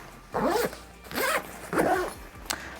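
A zipper closes a compartment on a utility backpack, three drawn-out zipping strokes at close range, followed by a brief sharp click.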